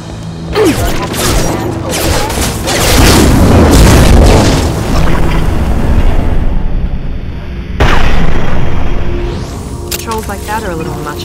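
Weapons fire and explosions in the Mass Effect 2 video game: a dense, loud stretch of booms and gunfire bursts, rising again in a second heavy blast, with speech mixed in.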